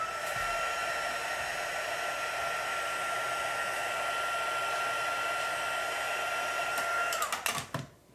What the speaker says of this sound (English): let me see if I can heat emboss that really quick